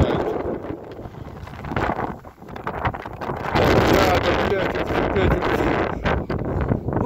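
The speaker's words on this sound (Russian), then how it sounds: "Сильный ветер." Strong wind gusting across open snowy ground in the Yukon, Canada, buffeting the microphone with a steady roar that swells louder midway and keeps blowing without a break.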